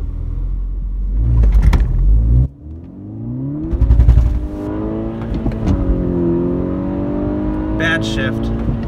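A 2014 MK6 VW GTI launching without boost and accelerating hard, its engine revving loudly up and down through rising pitch sweeps, with a brief drop between gear changes; a voice is faintly audible too.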